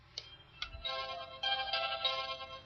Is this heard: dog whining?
no